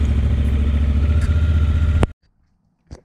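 A 2019 Honda Africa Twin DCT motorcycle engine idles while warming up before an oil change, a loud, steady low rumble close by that cuts off abruptly after about two seconds, followed by silence and a brief faint knock.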